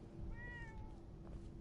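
A cat meows in Fallout 4's Far Harbor add-on, one drawn-out tonal mew with a falling pitch, heard close and clear over a low ambient hum.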